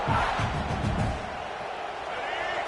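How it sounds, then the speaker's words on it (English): A large crowd at a football game roars and cheers in a steady, distant wall of noise, loudest at the start and then easing slightly, with muffled announcer commentary blending in underneath. "This crowd bringing the energy and noise early."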